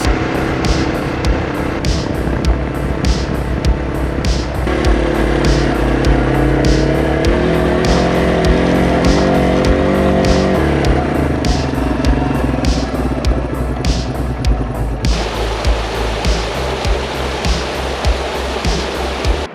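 A Yamaha TW200 motorcycle being ridden, its engine a loud continuous drone with shifting revs and heavy wind rush throughout, no talk.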